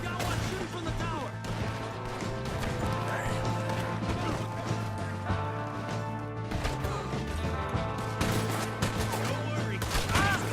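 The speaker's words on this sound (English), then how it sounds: "We got one shooting from the tower!" Gunfire rings out in a Red Dead Redemption 2 shootout as a shooter fires from a tower. Sharp repeated cracks and bursts sound over a steady low hum, with scattered impacts and movement throughout.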